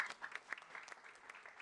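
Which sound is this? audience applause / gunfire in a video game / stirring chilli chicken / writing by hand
audience applause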